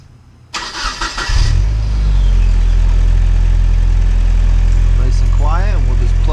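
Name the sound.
1996 Nissan Altima engine starting after muffler replacement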